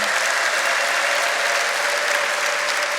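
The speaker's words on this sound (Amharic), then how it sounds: "ካጨበጨባችሁ በደንብ አጨብጭቡለት።" A church congregation applauds steadily, a dense wash of clapping that holds at full strength without pause, with no voices rising above it.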